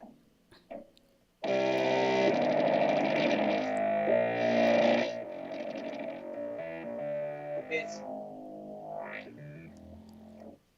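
A synthesizer drones loudly in layered, buzzing tones that shift and warp, then sweeps and wobbles through bending pitches before fading out.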